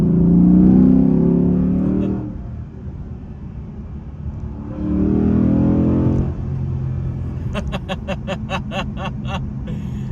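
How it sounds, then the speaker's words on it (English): A Chrysler 300C SRT8 engine in manual mode, second gear, revs up twice with a deep throaty intake roar, then settles into a lower rumble, ending with a rapid burst of sharp pops. "as we put it into manual mode in second gear, we'll hear that intake noise"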